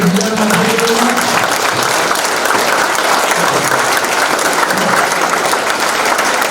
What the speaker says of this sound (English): A big round of applause for them, ladies and gentlemen.